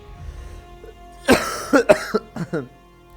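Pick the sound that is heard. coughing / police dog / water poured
coughing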